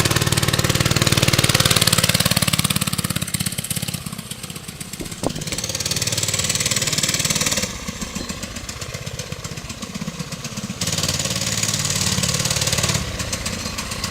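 A small cast-iron four-stroke engine on a 1970 Rupp Roadster 2 runs steadily, its buzzy drone rising and falling in loudness as it revs up and settles back, with no voices over it.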